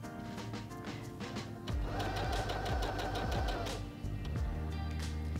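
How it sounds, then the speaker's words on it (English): A Heavy Duty 6800C sewing machine stitches fabric in one short, steady run of rapid mechanical whirring and clatter, close and moderately loud, starting and stopping cleanly. "now it will stop in the up position when I stop sewing"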